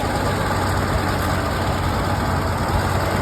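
A 1957 International Harvester truck engine runs steadily at close range, a loud, continuous low rumble with an even idle that holds for a few seconds without any talk.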